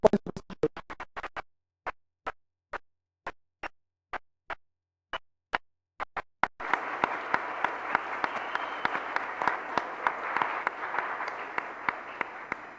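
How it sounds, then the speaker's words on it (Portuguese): Participants at a Laravel developer event in Brazil are applauded: a few sparse, separate claps come first, then a full crowd bursts into sustained applause that carries on to the end. "queria pedir uma salva de palmas para todos os participantes"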